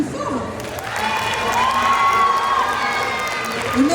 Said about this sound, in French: On peut l'applaudir plus fort.